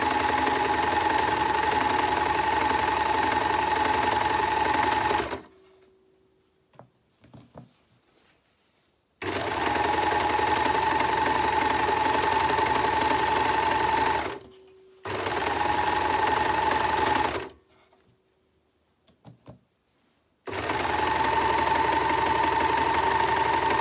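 An overlocker stitches along the edge of a reusable fabric bag in three loud, steady bursts of about four to five seconds each, with quiet pauses between them holding faint handling clicks.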